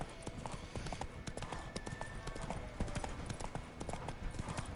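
Hooves of Roach, the horse in the video game The Witcher, clip-clop in a quick steady galloping rhythm, close and fairly quiet, with faint background ambience and brief speech.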